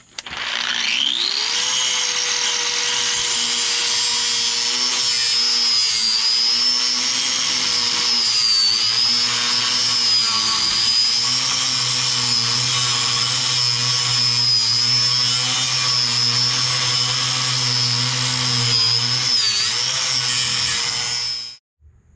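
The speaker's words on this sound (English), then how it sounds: "get my grinder out with a 6-inch cutoff wheel" A grinder fitted with a 6-inch cutoff wheel slices through a suspension bolt on a 1990 Ford F350, a loud, steady, high whine that runs about twenty seconds with slight shifts in pitch as it bites, then stops abruptly.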